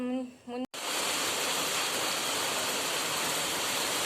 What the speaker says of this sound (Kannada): ಜೋರಂದ್ರೆ ಜೋರು ಮಳೆ ಬರ್ತಾ ಇದೆ, ಎಷ್ಟು ಜೋರು.